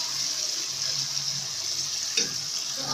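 Water pours steadily into a pot of potatoes with plums, salt, crushed chili and spices for potato biryani, a continuous close hiss and splash.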